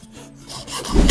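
A wooden slat for a garden gazebo shutter system being cut, giving a short rasping, rubbing saw stroke that builds in loudness toward the end, close up with no talk.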